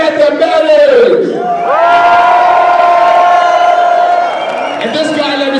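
At a hip-hop DJ show in Manchester, a concert crowd cheers, whoops and shouts loudly and continuously, with one sustained yell standing out above the roar of the room.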